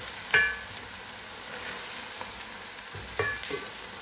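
Onions frying in plenty of oil in a pan for fish majbus, a steady soft sizzle running throughout with a couple of brief clinks or stirring knocks, close and alone without talk.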